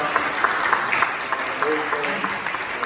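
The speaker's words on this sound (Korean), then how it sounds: "박수로 축하합니다" A church congregation applauds during a Sunday service to celebrate a minister's birthday, a moderate wash of clapping from a room of people continuing evenly for a few seconds, with faint voices mixed in.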